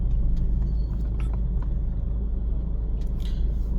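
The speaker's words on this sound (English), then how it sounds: "This is a sugarcane truck, guys, that is headed to get sugarcane to the factory." Sugarcane truck passing on a dusty road in an industrial area of Kisumu, a deep steady engine rumble close by with occasional rattles and clanks, loud and continuous.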